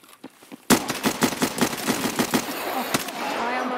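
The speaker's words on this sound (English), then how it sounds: "Shot you, Jen." Gunfire in the video game Escape From Tarkov, a sharp burst of rapid automatic shots after a few faint taps, ringing out with a fading tail.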